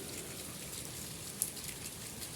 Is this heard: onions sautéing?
no